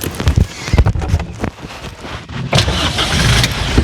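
A vehicle engine revs loudly and roughly up close, in uneven bursts that build into a sustained roar toward the end.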